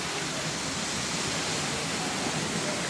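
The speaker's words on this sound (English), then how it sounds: "We are here at the waterfall" Waterfall in El Yunque rainforest at Las Paillas, a constant broad rushing hiss of falling water, steady and close with no breaks.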